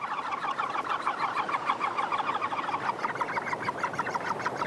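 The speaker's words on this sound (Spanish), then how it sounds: "Estos alcatraces australianos han establecido su colonia en rocas, cerca del borde de la isla" An Australasian gannet colony nesting on rocks near an island's edge, many birds calling at once in a dense, continuous chorus of harsh overlapping cackles.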